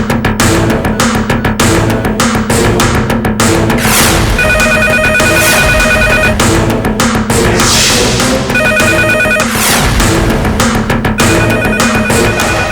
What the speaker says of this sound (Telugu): ఆ ఫోన్ మోగుతుంటే మీకు వినిపించట్లేదా?